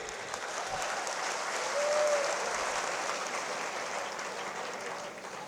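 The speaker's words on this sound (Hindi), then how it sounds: "तो अब तो ताली बजाइए" A large outdoor crowd at a political speech and statue unveiling applauds steadily, a dense wash of clapping that swells slightly in the middle and holds for several seconds.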